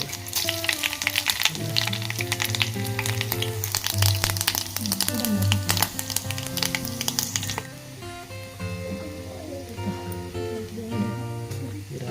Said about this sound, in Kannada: ಒಗ್ಗರಣೆ ಕೊಡ್ಬೇರು